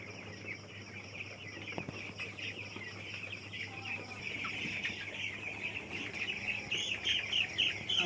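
A broiler chicken at about fifteen days old in a poultry farm shed clucks and squawks as it is caught, with a steady crowd of chirping birds behind it and a constant low hum running under everything.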